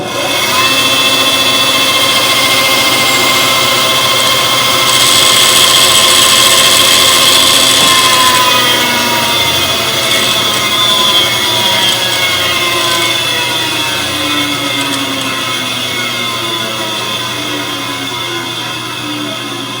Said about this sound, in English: we like to cut on the outside of the line when we're using the bandsaw